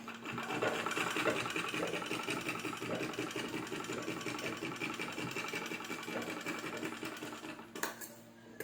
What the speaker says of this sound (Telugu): స్టిచ్ చేస్తున్నాను